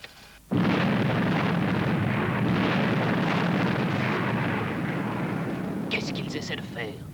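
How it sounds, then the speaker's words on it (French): A sudden, loud explosion erupts and rolls on as a long, heavy roar that slowly fades over several seconds, with a shout heard near the end. "attention à l'explosion"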